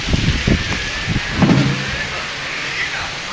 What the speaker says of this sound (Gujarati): આ જો તમે કેવો મસ્તીનો વરસાદ આવ્યો છે અમારા ઘરે